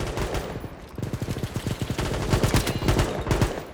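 Rapid bursts of automatic gunfire from a first-person shooter, WW3 in a team deathmatch mode, crackling in dense volleys close to the player for nearly four seconds with no talk over it.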